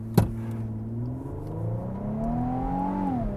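A 2025 Infiniti QX80 launches from a brake-boosted stop. Its engine note climbs steadily as it accelerates, then eases off near the end, heard from inside at moderate loudness after a brief knock at the start.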